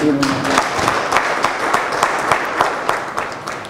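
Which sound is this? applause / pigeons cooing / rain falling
applause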